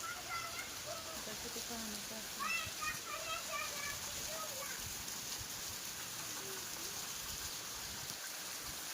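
Heavy rain pours down steadily with flowing water rushing nearby, a constant wash of noise at even loudness, with voices talking and calling over it.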